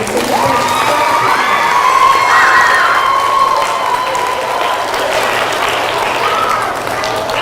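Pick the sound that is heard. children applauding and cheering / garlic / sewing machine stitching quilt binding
children applauding and cheering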